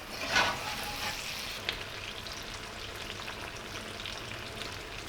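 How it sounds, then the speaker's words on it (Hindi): Steady sizzling and crackling of mutton frying in gravy in a karahi over a medium flame, a continuous close hiss with a few louder pops and a stir near the start. "मटन को हमने ग्रेवी में 7 से 8 मिनट तक भून लेना है मीडियम फ्लेम पर"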